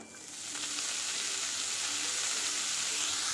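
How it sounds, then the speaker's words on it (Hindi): Spices for a tadka crackle and sizzle in hot oil in a pan, a steady bright hiss swelling in the first half second and holding loud and close until it cuts off, with no voices. "इन दोनों को पहले अच्छे से तड़क देते हैं"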